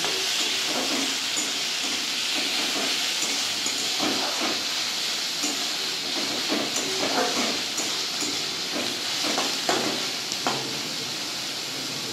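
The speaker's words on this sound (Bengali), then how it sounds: "পেঁয়াজ আর রসুনটাকে আমি একটু বাদামি কালার করে ভেজে নেব" Grated onion and garlic browning in oil in a pan give a continuous, fairly loud frying sizzle with a steady hiss, broken by faint stirring clicks throughout.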